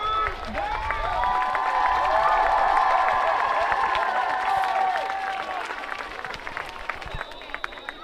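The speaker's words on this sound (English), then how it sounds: "Crowd very appreciative of this New Brockton offense." Football crowd at a high school game applauding and cheering after a first down, a loud sustained roar with whistles and shouts that swells then gradually fades, heard alone without commentary.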